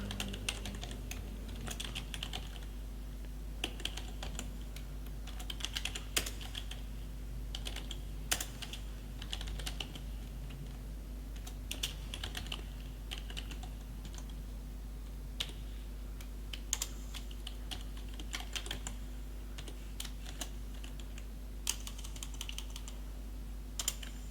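Code is typed on a computer keyboard, with fairly quiet, close, irregular key clicks in quick runs and pauses over a low steady hum.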